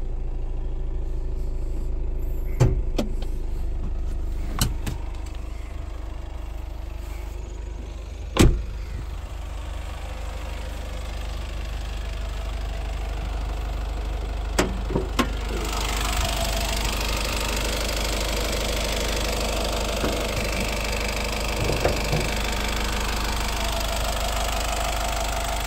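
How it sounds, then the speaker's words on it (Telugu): Honda City V diesel car from 2016–17 idling after starting on a single crank, a steady low engine rumble throughout with occasional clicks and knocks, the tone brightening partway as the bonnet area opens up. "సింగిల్ సెల్ఫ్కి ఇంజన్ స్టార్ట్ అయిపోయింది"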